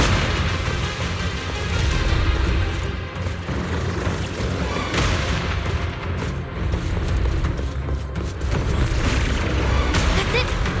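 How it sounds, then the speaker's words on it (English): Repeated heavy booms and crashes from the video game Zenless Zone Zero, dense and loud, layered with rumbling noise and occasional voices. "Explosions are becoming more frequent."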